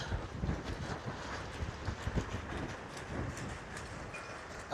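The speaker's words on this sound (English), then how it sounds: "Here we can hear the wind now there from the hotel, the plastic." Strong wind gusts at a hotel in Ponta Delgada, São Miguel, Azores, ahead of Hurricane Gabrielle, rushing as a steady broadband roar with buffeting on the microphone and some plastic rattling, loud and continuous throughout.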